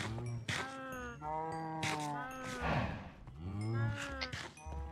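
Cows on an automatic cow farm in Minecraft give repeated low, drawn-out moos in overlapping bursts, fairly loud and close, with a faint hint of other farm sounds mixed in.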